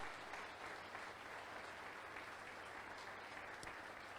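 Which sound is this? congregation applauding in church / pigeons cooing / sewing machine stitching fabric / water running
congregation applauding in church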